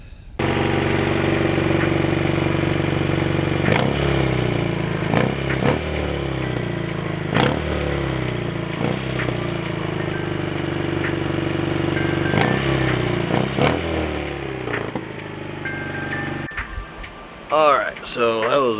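A modified Honda Civic EF with a Hasport K-swap drives on a test run, its engine droning steadily with shifts in revs and occasional clunks, ending with a rustle and knocks as the drive finishes.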